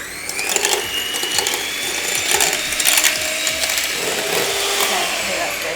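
Electric whisk whipping dalgona coffee in a kitchen, a steady close mechanical whirring and rattling that runs continuously with small fluctuations and no talk over it.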